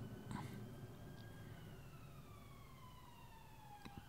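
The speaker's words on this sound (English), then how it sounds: "There's another one of those ambulances." An ambulance siren wails steadily at a distance, its tone sliding slowly downward as it passes, over a low hum of city traffic.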